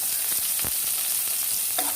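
Chopped onion, garlic and slit green chillies fry in oil with a dense, even hiss, close up, punctuated by a few soft stirring scrapes, with no voices.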